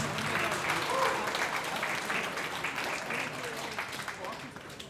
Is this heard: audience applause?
yes